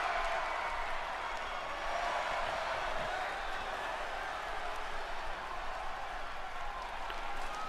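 Steady applause and crowd noise from a wrestling audience in an arena, a continuous broad wash of clapping and cheering holding at even loudness throughout, with no distinct voices standing out.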